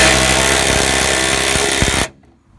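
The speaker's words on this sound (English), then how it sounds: "So we're gonna take our cordless impact driver." A cordless impact driver works on a seatbelt bolt of a 2003-2007 Honda Accord, running loud and continuous at close range for about two seconds with faint rapid hammering, then cutting off abruptly into near silence.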